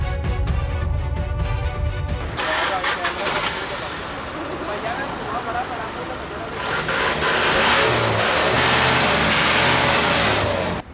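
A smoky vehicle's engine revs loudly and steadily during a roadside emission check in Punjab, a heavy continuous roar after an initial rumble, with voices talking over it.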